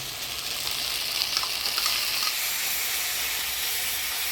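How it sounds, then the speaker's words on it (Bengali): A paste of onion, garlic and ginger fries in a pan, giving a steady bright hiss of close sizzling with little change in level and no talking. "মশলাটা ভালো করে কষাই নিই"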